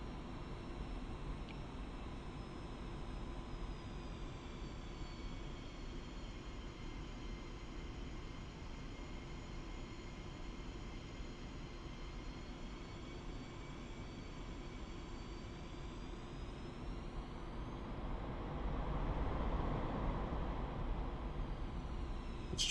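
Su-25 jet engines in a flight-sim game whine and drone steadily while the aircraft taxis, with a steady tonal hum and rising pitch before the engine roar swells toward the end of the long stretch.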